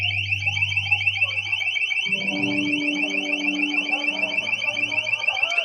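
An LRAD long-range acoustic device blares at a rally, giving a loud, continuous electronic alarm tone with a steady pulsing warble. Lower tones shift underneath partway through, and the alarm runs without a break.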